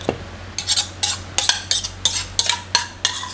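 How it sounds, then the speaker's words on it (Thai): A pestle thuds into a mortar, pounding fish meat with curry paste in a steady series of about eight dull, close knocks, each with a short scraping edge. "ตอนนี้เราก็จะใส่เนื้อปลาลงไปนะคะโขลกเนื้อปลาต่อ"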